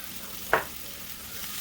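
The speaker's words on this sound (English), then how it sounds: "I think the pan and the grease is now hot enough, but this is when I turn my flame down because I don't want my onions and stuff to cook really fast." Onions and green peppers fry in a hot greased pan over a lowered flame, making a steady low sizzle broken by one sharp utensil clink.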